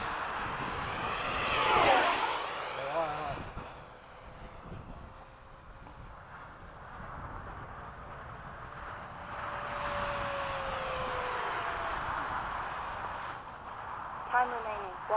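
An FMS 70mm electric ducted fan F/A-18 model jet flies in formation with an Eflite 70mm F-16, a steady whooshing whine that swells on a near pass and then holds at mid distance, with people talking over it.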